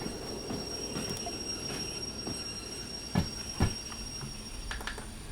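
Locomotive braking on rails in the Derail Valley train game, a steady metallic rumble with high wheel squeal, two sharp clunks near the end, no talk.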